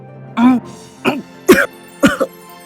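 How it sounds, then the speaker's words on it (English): A man chokes and coughs four times in quick, strained bursts, close up with a gagging, throaty rasp. "he chokes and coughs"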